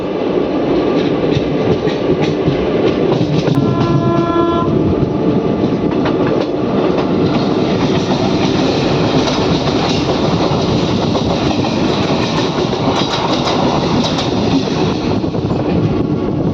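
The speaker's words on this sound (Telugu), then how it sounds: "మన ట్రైన్ సనత్ నగర్ స్టేషన్కి దగ్గరలో ఉంది" Palnadu SF Express, Guntur to Vikarabad, running near Sanathnagar station, heard from on board as a loud, continuous rumble with steady rhythmic clickety-clack of wheels over rail joints and a brief tonal squeal early on.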